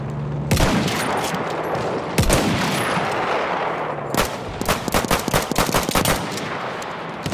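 An enemy machine gun in the video game Battlefield 1 fires loudly in sharp bursts, with single heavy cracks early on giving way to a fast, rhythmic string of close shots near the end.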